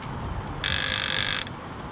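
A kitchen-timer style rotating time-lapse head rings with a bright metallic bell trill, a steady rapid rattle lasting under a second over faint room noise.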